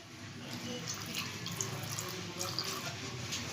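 Water poured onto chopped ginger and small tomatoes for a spice paste, a steady soft splashing flow close by that lasts the whole moment with little change.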